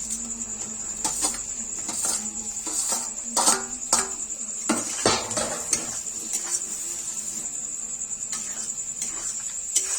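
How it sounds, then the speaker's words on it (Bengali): Fried vegetables tipped into a pan for egg chicken chow mein, with repeated metal clinks and scrapes of a spatula against the pan over a steady high hum. "এবারে ভেজে রাখা সবজিগুলো দিয়ে দেবো"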